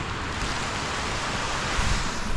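Mountain river flowing on the trek to Annapurna Base Camp in rainy weather, a steady broad rushing wash of water with some wind buffeting, continuous and fairly loud with no voices.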